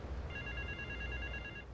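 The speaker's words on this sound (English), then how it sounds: "Sometimes you will find random payphones that are actually ringing" A payphone rings in Grand Theft Auto III, an electronic trill repeating rapidly in a steady tone over low background hum, then cutting off.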